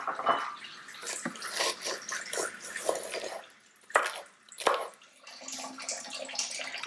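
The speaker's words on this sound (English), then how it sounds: "I'm going to turn off the water" Water from a kitchen tap splashes and gurgles over ribs being blanched, in uneven bursts with a few sharp drips and brief lulls, close by and fairly loud.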